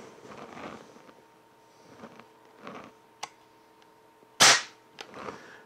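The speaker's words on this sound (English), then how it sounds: "We'll aim the gun at our desired target, release the safety, and gently squeeze the trigger." A Crosman TR77 break-barrel air rifle fires once with a sharp, close snap, set among quiet clicks and handling noises from the safety and the gun before and after the shot.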